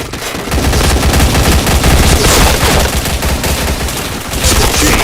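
Sustained loud automatic gunfire from the shooter game Point Blank, headshots landing as the rapid shots pile into an unbroken, close barrage for several seconds.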